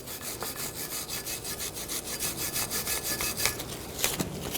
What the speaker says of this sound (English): Take the bracket and a wire brush and just clean up any corrosion.